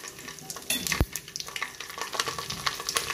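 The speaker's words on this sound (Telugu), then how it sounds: "మనం వేసుకున్న నూనె నెయ్యి కాగిన తర్వాత మనం తీసుకున్న మసాలా దినుసులు వేసేసుకోవాలి" Whole spices frying in hot oil and ghee in a pan for egg pulao, with a steady crackling sizzle broken by sharp pops and a firm stirring knock near the start, no voices.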